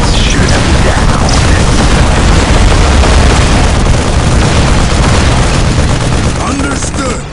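Dense, loud battle din from the Warhammer 40K Dawn of War Soulstorm strategy game, with Imperial Guard and Sisters forces trading gunfire and explosions in a continuous, saturated roar with no pauses.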